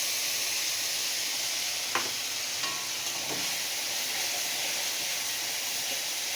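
Mustard-poppy seed, green chili and ginger paste sizzling in a pan, a steady bright hiss with a couple of soft clinks of a utensil, close and fairly quiet, no speech.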